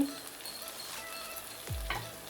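Ground spice powders sautéing in oil in a pan for a tiger prawn gravy, a steady close sizzle with stirring scrapes and a lower clatter of the spoon near the end, no talking.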